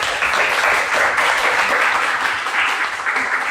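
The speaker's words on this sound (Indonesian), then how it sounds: "tepuk tangan dulu buat semuanya" Applause from a class of students fills the room, a dense, steady clapping that stays loud and even throughout without a break.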